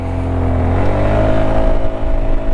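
Honda ADV 350 scooter pulling away at full throttle, its engine drone steady and close with a rising tone as it accelerates, with no talk over it.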